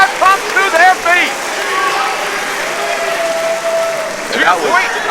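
A wrestling crowd at a 2016 independent tournament match rises to its feet, with sustained applause and crowd noise filling the arena under an excited commentator's voice.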